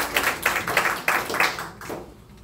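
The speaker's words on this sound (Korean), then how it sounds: "그분께 박수 한번 줘보세요." A few people clap at a lecture on anatomy, a short run of distinct, uneven claps close by, thinning out and fading within a couple of seconds.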